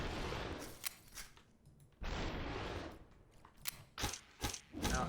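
Close-range gunshots in SUPERHOT: MIND CONTROL DELETE, a handful of sharp, loud single cracks spaced irregularly, with a sustained blast of noise in the middle and no talking.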